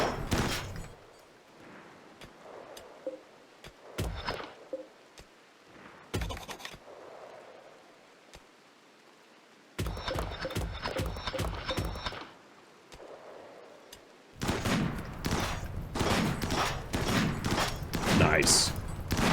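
Assault rifle fire in the video game RimWorld comes in sharp bursts of rapid shots separated by quieter stretches, with a long dense volley near the end, and a voice talks over parts of it.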